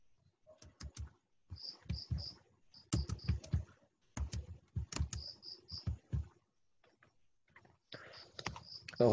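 Typing on a computer keyboard while writing a WordPress blog post, with quick bursts of close, crisp key clicks and short pauses between runs, and no talking.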